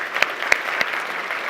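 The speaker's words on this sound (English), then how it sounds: "We can give a round of applause." Steady applause from a conference audience at a BMC Exchange event in London, filling the short span evenly with a few sharper claps standing out near the start.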